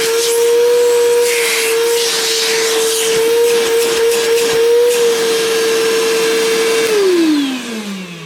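An Evolution R11VAC-Li cordless wet and dry workshop vacuum runs with a loud, steady whine and airy hiss, then winds down and fades as it is switched off near the end.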